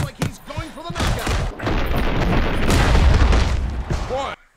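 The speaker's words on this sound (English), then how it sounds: "I made fireworks." Fireworks burst in a VR video game, a dense run of booming, crackling blasts that fill several seconds at loud, close range, with short voiced sounds at the start and end.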